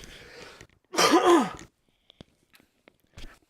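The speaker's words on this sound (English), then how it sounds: "I just got a little bit of a cough there." A single loud, harsh cough bursts out near the listener, followed by quiet small clicks and shuffling.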